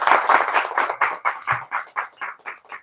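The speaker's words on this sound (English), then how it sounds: "Let's give a big round of applause." A small audience claps in a round of applause, starting dense and then thinning into a handful of distinct, evenly spaced claps that fade out, fairly close and with no talk over it.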